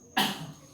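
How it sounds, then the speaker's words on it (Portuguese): A single sharp, close cough bursts out after a moment of quiet and fades quickly in an indoor room. "deu uma tosse agora"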